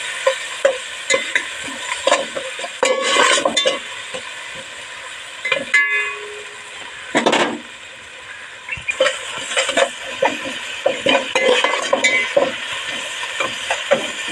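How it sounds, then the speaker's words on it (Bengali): Salt with ginger and garlic paste frying in a pan: crackling sizzle broken by repeated scraping stirs and metallic spatula knocks, close up, with no voices. "পরিমাণ মতো লবণ আদা রসুন বাটা ভালোভাবে একটু ভেজে নেব"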